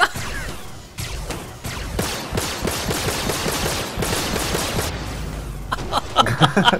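Rapid bursts of gunfire fill the clip in a video game, loud and dense with overlapping shots and cracks, growing choppier near the end.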